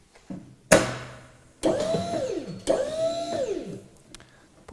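Motor of a drum handling lift unit whirring up in repeated rising and falling pulses after its lift button is pressed, with clunks and short mechanical bursts, close and moderately loud.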